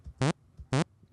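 Harsh-instrument jump effect from the Pico-8 fantasy console: two short buzzy chiptune blips with rising pitch, about half a second apart, loud and alone with no talking.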